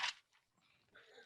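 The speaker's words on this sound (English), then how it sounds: "It doesn't sound like a big dog." A small dog gives a short, faint yip and whimper at a distance, followed by quiet whining noises in a mostly still room.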